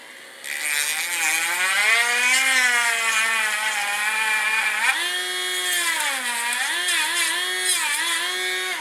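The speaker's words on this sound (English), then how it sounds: "And then I'll use a Dremel tool." A Dremel rotary tool cuts into a part of a Tamiya 1/14 radio-controlled King Hauler model truck near the windshield, whining loudly and steadily with pitch dipping and rising as it bites, no talking.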